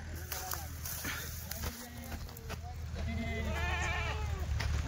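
Dairy goats bleating on a farm, several wavering calls rising and overlapping in the later half, with people talking throughout and steady background noise.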